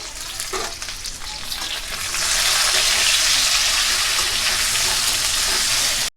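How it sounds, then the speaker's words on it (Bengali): Potato pieces seasoned with salt and turmeric fry in hot oil, sizzling softly at first and then swelling into a loud, steady crackle and hiss that runs on to a sudden stop. "আলুটাকে আমি এরকম লাল লাল করে ভেজে নিয়েছি"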